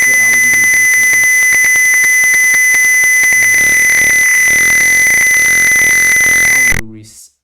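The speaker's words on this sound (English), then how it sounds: "if a person with walk within 50 cm, the alarm will be making sound also" A simulated home security alarm in a Tinkercad circuit blares a loud, steady electronic tone with rapid pulsing for almost seven seconds, then cuts off abruptly.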